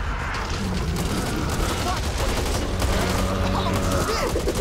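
Dense, continuous gunfire in the zombie shooter Back 4 Blood, steady and loud throughout with a busy layered texture of repeated shots and game effects, while a voice talks over it.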